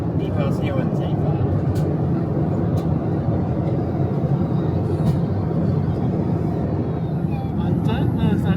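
Steady, loud broadband rumble and roar of an airplane cabin during the descent toward Orlando, continuous and enveloping, with faint scattered clicks and thuds over it.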